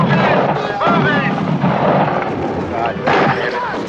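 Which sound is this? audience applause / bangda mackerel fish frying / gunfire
gunfire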